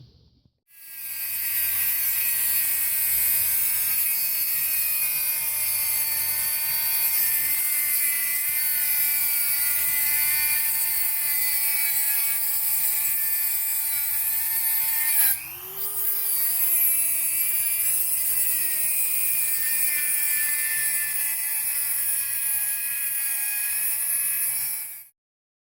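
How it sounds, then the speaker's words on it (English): A Dremel rotary tool cuts off a Zoomlock fitting with a steady, high-pitched whine that holds for about 24 seconds, briefly dipping in pitch midway as the bit loads against the metal. "So now I'm going to go ahead and try to Dremel that fitting off"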